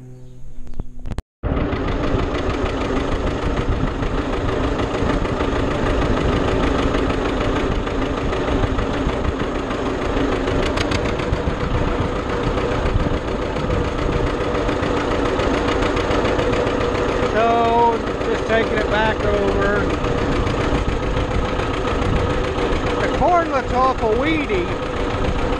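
A tractor engine idles with a steady, continuous rumble throughout, close and fairly loud, while voices talk over it in the background.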